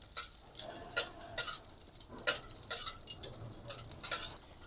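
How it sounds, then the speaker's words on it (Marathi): Edible gum pieces roasting in a spoonful of ghee for dry-fruit laddoos, heard as repeated scraping stirs and clinks of a spoon against the pan over a faint crackle, with no voices. "एक चमचा तूप टाकून घेऊ आणि त्यामध्ये हा डिंक परतून घेऊ"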